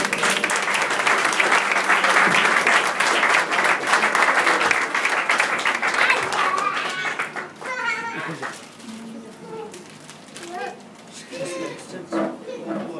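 Applause fills a church hall after flowers are presented to the pastor's wife, loud sustained clapping for about six seconds that thins out, then speaking voices take over.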